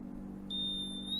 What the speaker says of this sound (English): let's just use a stud detector instead